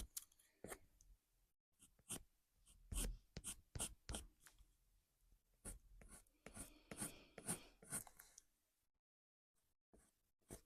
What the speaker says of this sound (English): Kind of sweeping my pencil off to the side here.